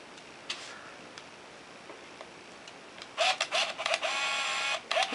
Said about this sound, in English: the shutter operated, and the motor ran to advance the film to now number 7